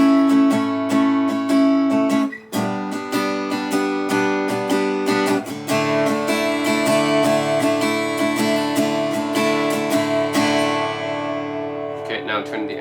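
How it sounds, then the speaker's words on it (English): Unplugged Takamine acoustic guitar strummed and picked with no amplifier, bright ringing chords and quick strokes sounding close and steady, with no talk. "you guys can hear the natural sound of my Takamine without the amp."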